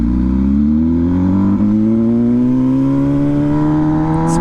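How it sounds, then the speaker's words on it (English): MV Agusta Brutale 1000 RR exhaust under a loud, close, sustained pull, its pitch rising steadily as the engine revs climb through the gear, with no speech. "Moment of silence for that exhaust."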